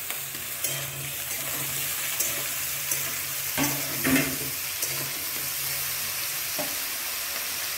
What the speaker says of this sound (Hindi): फुलकपी और कैप्सिकम दिए देव